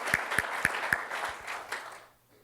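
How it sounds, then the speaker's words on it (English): A lecture audience at a talk on Los Angeles' climate future claps: a few sharp, distinct claps stand out over a light spatter of applause that fades to near silence within about two seconds. "let's give them a round of applause."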